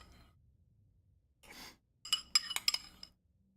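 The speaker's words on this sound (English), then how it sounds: "You guys get to hear the clinking of my spoon against the bowl." Metal spoon clinking against a bowl, a quick cluster of three or four bright, close taps after a soft breath-like rustle, otherwise quiet.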